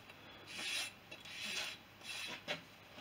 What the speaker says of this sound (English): file this right down to the line, all the way around